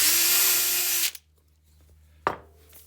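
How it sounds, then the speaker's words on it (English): A power drill whines steadily while boring a hole, then stops abruptly after about a second; a brief second burst of drilling follows, with quiet room tone between. "Now I'm going to drill it deeper than I need to"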